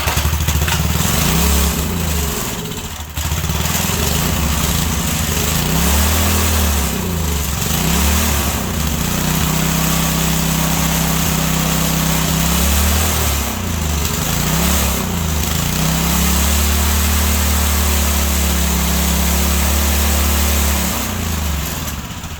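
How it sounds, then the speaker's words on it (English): A small McLane edger engine runs close and loud, with a continuous buzzy drone whose pitch rises and falls as it revs up and settles repeatedly. "We got our little McLane engine up and running."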